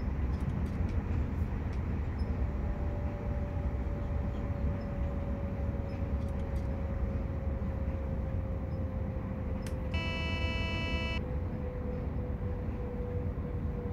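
ÖBB 4746 electric multiple unit on an S50 commuter run near Vienna in Train Simulator Classic, a steady low rumble of running gear and traction hum, with a brief high tonal whine near the end.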